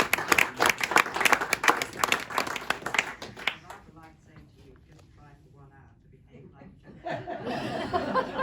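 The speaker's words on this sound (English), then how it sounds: "That better have a round of applause." An audience at a Christmas event for a village history group bursts into loud applause for about three seconds. A quieter stretch with a voice speaking follows, then clapping swells again at the end.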